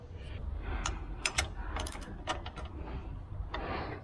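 A socket ratchet clicks as it turns the 15 mm tensioner bolt on the A/C belt of a Silverado 2500HD with a 6.0L engine, giving a few short, close clicking bursts over a steady low engine-bay hum.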